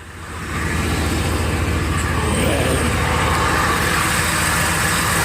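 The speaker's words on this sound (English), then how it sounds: "There's the exhaust pipe. Lots of good pressure there." A 4.6 car engine runs steadily after a catalytic converter replacement, its exhaust rumbling loudly and close with no leaks, a continuous low drone that swells in after a brief quiet start.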